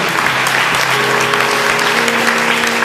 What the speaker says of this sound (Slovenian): Dajmo še Sabini, prosim, en aplavz